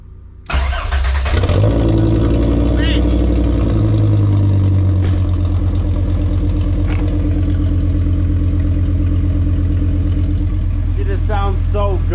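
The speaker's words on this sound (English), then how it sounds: "It's only right we get a cold start." A junkyard Volkswagen Passat engine cold starts, cranking and catching, then settles into a steady, loud idle with a faint rhythmic clatter; a few brief voice sounds near the end.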